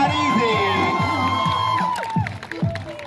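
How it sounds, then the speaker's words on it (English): A live crowd cheers, whoops and shouts loudly for a few seconds, with excited voices overlapping and rising and falling in a continuous roar. "Crowd, make some noise"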